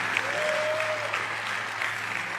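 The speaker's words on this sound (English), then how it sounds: "I think that deserves another round of applause." Faint, distant audience applause fills the room evenly throughout, with a brief whistle-like tone rising above the clapping early on.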